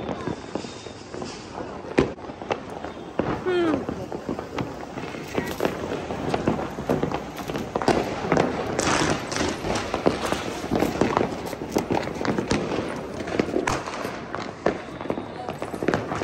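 Diwali firecrackers and sparklers crackle and pop outdoors at night in a steady stream of sharp bursts, with people chatting and calling out throughout.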